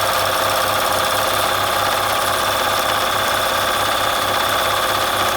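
A Bernina 1130 sewing machine stitches fabric with a steady, fast mechanical rhythm, loud and close with continuous motor whir and regular needle thumps, no talking.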